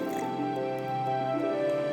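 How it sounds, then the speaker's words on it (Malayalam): Tender coconut water is poured over coconut pulp, a soft continuous trickle and splash with light dripping, close and steady. "ഇതിലേക്ക് നമ്മുടെ കരിക്കിൻ വെള്ളം പകുതി അതിൽ നിരന്ന് ഒഴിക്കുക."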